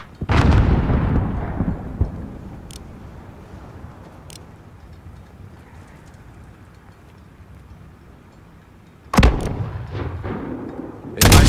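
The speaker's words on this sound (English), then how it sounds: "Alex, there is another Al-Qatala mortar team." Mortar and gunfire in a military shooter game against an Al-Qatala mortar team: a loud booming blast opens, a long rumbling decay follows with scattered distant shots, then another sharp heavy explosion and more blasts near the end.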